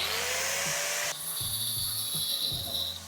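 An angle grinder cuts away a stripped bolt during control arm bush and ball joint work on a Citroën Picasso, a steady high whine that shifts pitch partway through amid low rubbing and clunking noises.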